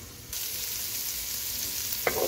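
Onion dropped into a pan with browned garlic for kimchi fried rice, setting off a loud, steady sizzle that rises sharply at once, then a brief clink near the end, with no talking.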